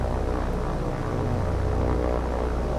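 P-38 Lightning twin-engine fighter planes in the naval combat game War on the Sea drone in a steady, loud propeller-engine hum that holds without a break.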